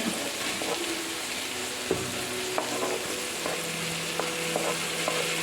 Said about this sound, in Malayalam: രണ്ട് പച്ചമുളക് ഉള്ളി വരട്ടി ഇനി അതിലേക്ക് തക്കാളി ഇടുന്ന്